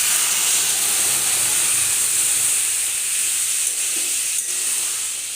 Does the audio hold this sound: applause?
no